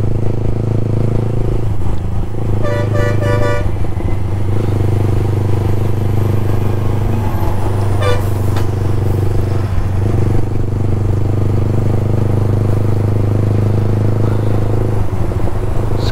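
Brand new Yamaha R15 V4 motorcycle fitted with a loud aftermarket exhaust, ridden at night on a highway: a steady, deep engine drone holds throughout, with brief higher tonal bursts and faint clatter over it.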